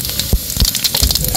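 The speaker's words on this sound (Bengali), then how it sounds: "মাছ ভাজার তেলে জিরে দিয়ে দিলাম" Cumin seeds dropped into hot oil left from frying fish crackle and sizzle in a village kitchen, with a few low thumps over a steady bright hiss, close and fairly loud, no talking.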